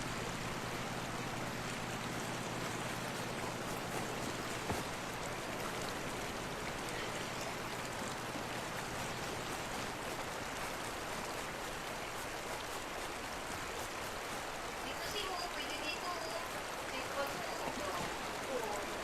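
Steady rushing river water flows in the RV There Yet video game, an even, unbroken wash of sound lasting the whole stretch, with some talk faintly underneath.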